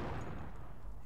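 A highly explosive object blowing up after being shot in the video game XIII, a short, dense, booming blast with rumbling low end filling the whole moment, loud and close.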